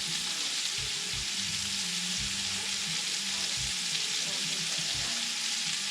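Turkey pieces fry and brown in a pot of rendering fat, a steady close sizzle with soft rhythmic scraping from occasional stirring, continuous and without talk.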